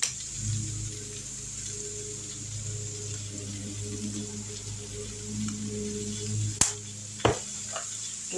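Cabbage fries in a pan with a steady, soft sizzle beneath a faint high whine, interrupted near the end by a few sharp clinks of a utensil against the pan.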